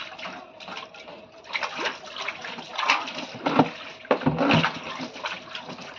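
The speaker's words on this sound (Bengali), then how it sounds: "তো বাসন টাসন মেজে নিই" Dishes being washed under running water from a tap in a home kitchen, with a steady splashing flow and intermittent clinks and scrubbing sounds of utensils close by.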